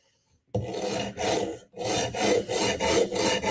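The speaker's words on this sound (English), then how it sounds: "So let's try 80 grit on it." A knife edge is ground on an 80 grit stone in steady rasping strokes, about six loud back-and-forth passes after a silent start, close up with no talking.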